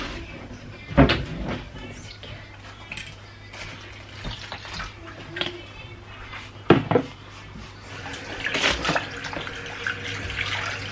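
Tap water running in a kitchen sink to wash tomatoes, a faint steady flow broken by a few clunks of dishes and cupboard knocks, recorded close and quiet.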